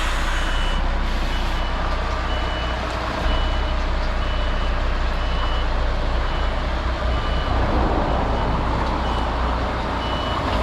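A truck backing slowly into a tight space, its reversing alarm beeping steadily over a loud, constant diesel rumble, with no talking.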